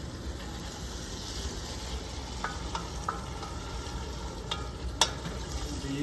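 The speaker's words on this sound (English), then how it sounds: "The ground beef is browning, of course, and we're just sauteing the onions in with this" Ground beef and onions sautéing in a pan, a soft steady sizzle with a few light clicks of a utensil stirring, fairly quiet and close.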